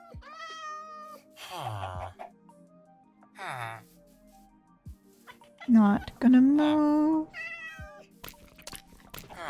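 Minecraft cat meowing in a long, loud, rising cry near the middle, with shorter mews around it and a person talking throughout.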